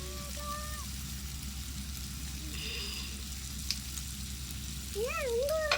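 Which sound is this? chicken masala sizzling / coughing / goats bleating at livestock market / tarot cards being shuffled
chicken masala sizzling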